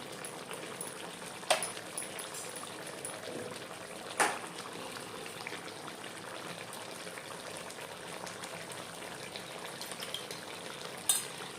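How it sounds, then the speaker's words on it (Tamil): Chicken curry stir-frying in oil with ground pepper, cumin and curry leaves makes a continuous bubbling sizzle, broken by a few sharp scrapes and clinks of a spoon against the pan. "கொஞ்சம் கருவேப்பிலை, மிளகு ஜீரகம் போட்டு எண்ணெய் கறி பெரட்டியாச்சு"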